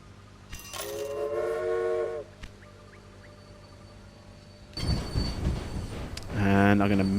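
Trains in the railway management game Railway Empire: a drawn-out horn-like tonal blast, faint rumbling in between, then a surge of rolling noise and a second bright whistle near the end, with a voice talking faintly underneath.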